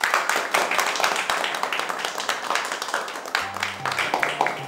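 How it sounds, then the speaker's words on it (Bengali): A group claps for a child, with dense, continuous, lively applause at close range and a voice briefly heard beneath it. "ওর জন্য একটা হাততালি।"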